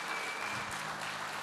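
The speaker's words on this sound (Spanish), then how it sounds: "dale fuerte ese aplauso al Señor" In a church, a congregation keeps up dense, sustained clapping, a soft, even wash of applause with no voices over it.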